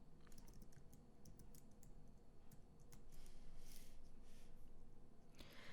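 Quiet, rapid keystrokes click on a computer keyboard as a short calculation is typed into RStudio, a close, faint run of taps with a slightly louder burst near the end.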